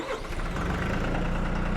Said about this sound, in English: We're going to start the tractor back up